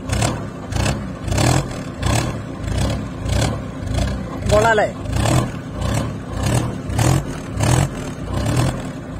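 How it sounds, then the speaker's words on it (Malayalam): The exhaust of a modified 1999 Hindustan Contessa is blipped in a steady series of about a dozen loud revs, each swelling and falling, with someone briefly speaking midway. "വണ്ടിയുടെ എക്സോസ്റ്റ് നോട്ട് നമുക്ക് കേൾക്കാം."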